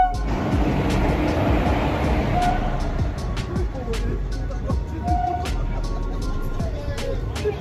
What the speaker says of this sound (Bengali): ট্রেন ঢুকে পড়েছে। ট্রেন ঢুকছে।